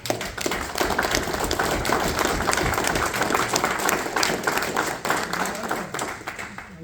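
Audience at a city council meeting in Marseilles, Illinois breaks into a round of applause, a dense patter of many hands clapping that continues steadily for several seconds in an indoor room, with talk mixed in.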